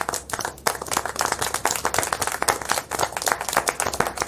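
Clapping applause in the Syberia The World Before video game, a dense run of hand claps from a small group that continues steadily for several seconds with no talk over it.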